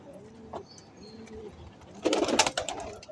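A Teddy pigeon coos softly from close by, with a few low, rounded coos followed by a louder burst of fluttering and scuffling.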